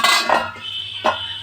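Food stirred in a cooking pot, two short metallic scrapes and clinks of a spoon against the pot, close by.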